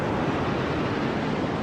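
Sea waves wash up the beach at Gokarna in a continuous, steady roar of surf with no talking.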